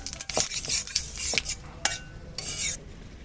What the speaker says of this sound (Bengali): ফোড়নে দিয়ে দিচ্ছি শুকনো লঙ্কা, তেজপাতা আর দিচ্ছি গোটা জিরা।